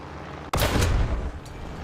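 A tank cannon fires once in War Thunder, a sudden close, heavy boom with strong recoil that rolls into a long low rumble.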